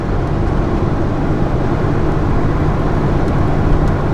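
A GMC Syclone truck takes a corner on a Kansas road, with steady loud engine drone and road rumble filling the scene throughout, no voices.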